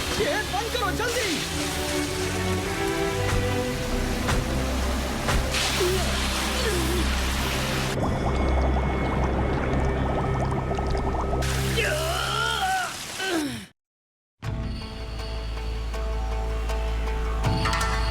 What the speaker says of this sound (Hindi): पानी अंदर आ रहा है।